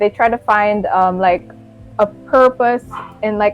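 A dog barks and yips in short bursts close by while a person keeps talking over it.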